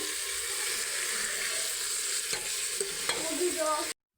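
Chicken biryani stirred in a pot to keep it from sticking to the bottom: a steady close sizzle with several distinct scraping strokes of a spoon against the pot, ending abruptly, with no talking.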